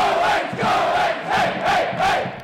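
A basketball arena crowd roars after a big three-pointer, a dense wall of cheering and shouting swelling in rhythmic surges, loud and close, with no clear single voice.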